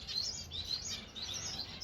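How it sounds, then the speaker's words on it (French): Birds in an outdoor aviary give rapid, bright, high chirps in a continuous close chorus that lasts just under two seconds, with no voices. "J'adore ces oiseaux là."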